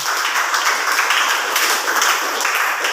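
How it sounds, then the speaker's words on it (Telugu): An audience at a church sermon applauds with dense, continuous clapping that stays steady and fairly loud throughout. "దేవుడి ప్రేమ చేత కొట్టాలి చప్పట్లు"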